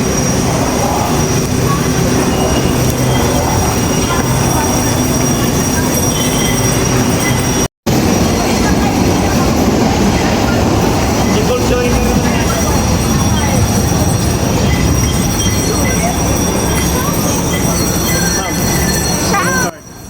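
A Manila passenger train rolls past loudly, its wheels squealing and clattering on the rails in a continuous roar, broken by a brief dropout and ending abruptly.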